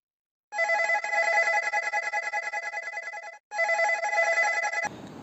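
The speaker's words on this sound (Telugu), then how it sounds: "ఎవడరా బాబు ఫోన్ చేసింది పనిలో ఉన్నప్పుడు" A phone rings with a bright, insistent electronic bell tone, one long burst of ringing, a brief pause, then a second burst before it cuts off; loud and close, with no voices.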